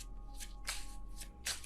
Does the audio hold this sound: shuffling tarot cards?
yes